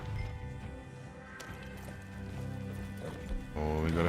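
Horse hooves clip-clop in the Red Dead Online video game, a rhythmic trot running under game music and voices, with a louder burst near the end.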